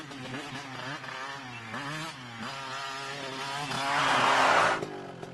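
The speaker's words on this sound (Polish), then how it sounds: "Motorcycle coming now." A motorcycle engine approaches with a droning, shifting tone that swells into a louder, rougher roar near the end.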